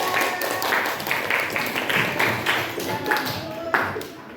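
A class of students claps together in a school classroom, dense and fairly loud group clapping that pulses in a loose rhythm throughout, with voices mixed in.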